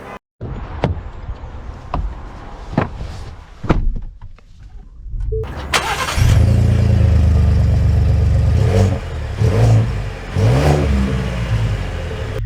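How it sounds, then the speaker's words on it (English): 2024 Ford Expedition Max XLT full-size SUV: a few door and cabin thunks and clicks, then the engine starts and revs into a steady loud drone as it pulls away. "let us set off in the Expedition Max XLT"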